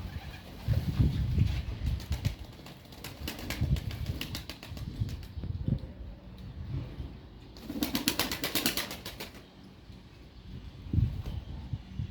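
Homing pigeons coo in a coop, with soft, low bursts of calls repeating near and far and some bleating animal sounds in the background.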